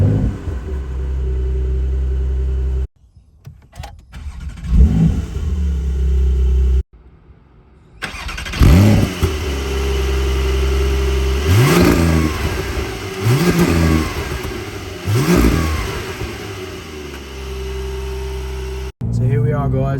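A 2022 Porsche 992 Sport Classic, rear-wheel-drive turbo with a manual gearbox, cranks and fires up, then revs repeatedly in loud rising and falling blips over a steady idle rumble, heard up close from the cabin.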